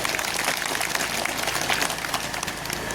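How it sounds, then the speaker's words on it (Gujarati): Dense, steady clapping from a crowd at a political rally in Karatal village during a Swabhiman Yatra, a continuous wash of applause filling the whole stretch with no pauses. "એકવાર આપણે જોરદાર તાળીઓ પાડી લઈએ"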